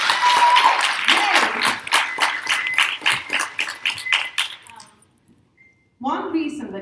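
At a panel discussion, the audience breaks into applause for distinguished women panelists, a run of hand claps that thins and fades out, then a voice resumes speaking near the end.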